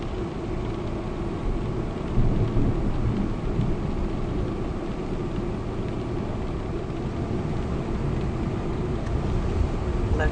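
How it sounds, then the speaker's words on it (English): Steady rain and rumbling thunderstorm ambience in Euro Truck Simulator 2, a broad continuous wash with a deep low rumble swelling slightly early on, heard from inside a truck with no voices. "Let's get a little bit of the thunderstorm sound."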